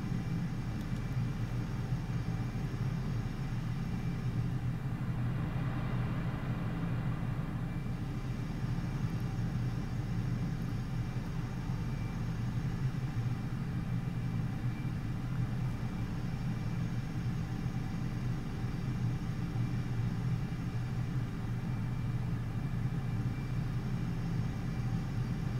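Fighter jet engine roaring with afterburner engaged in a Top Gun Maverick flight game, a steady, dense low rumble holding for the whole stretch with no voices.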